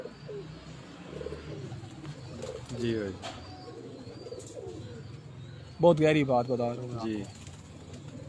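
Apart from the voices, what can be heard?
Rampuri Banka pigeons cooing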